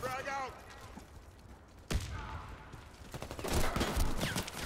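Enemy gunfire in a video game rattles out in bursts of quick shots, first fairly faint and then louder and denser toward the end, while a player's voice is heard faintly in between.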